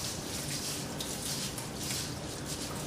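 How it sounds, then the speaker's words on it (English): Rice rinsed in a strainer under running water, a steady, even hiss and patter of flowing water with no talking. "Now what you're supposed to do is actually rinse the rice in a strainer."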